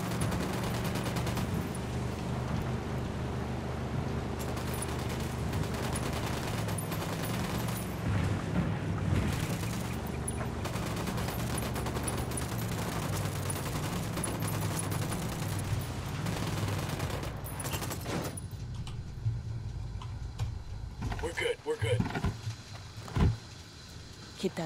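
Gunfire in Ghost Recon: Wildlands, a steady wash of dense shooting under a low engine-like drone through most of the stretch, thinning toward the end with a few scattered sharp reports. Voices talk intermittently over it.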